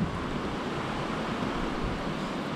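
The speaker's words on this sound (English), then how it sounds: "it is just pouring outside right now." Heavy rain pours outside a barn under construction, a dense, steady broadband roar with no breaks, filling the space evenly and heard alone.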